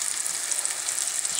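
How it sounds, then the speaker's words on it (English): Battered onion rings frying in hot oil, a steady high hiss of sizzling at close range with no voices over it. "I've got some onion rings battered up, ready to go in the hot oil"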